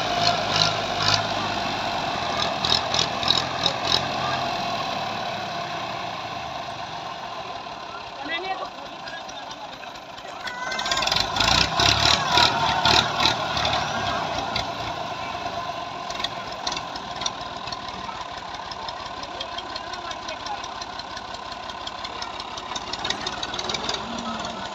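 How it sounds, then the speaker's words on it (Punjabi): An old Massey tractor engine labors as it backs a fully loaded trolley, a steady rumbling drone with knocking beats and a surge in load near the middle, while people shout and talk over it throughout. "ਲੈ ਗਿਆ ਬਾਬਾ ਟਰੈਕਟਰ ਲੈ ਗਿਆ।"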